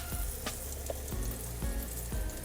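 Battered cauliflower sizzles and crackles steadily in hot oil, with a few sharper pops and spatters rising over the constant frying hiss.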